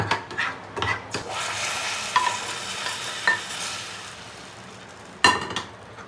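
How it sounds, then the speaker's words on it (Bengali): Spoon stirring food colouring into milk for sweet yogurt, a steady close scraping swirl with a few sharper clinks against the bowl, alone with no voices. "এটা আমি দুধের মধ্যে এখন মিশিয়ে দেবো"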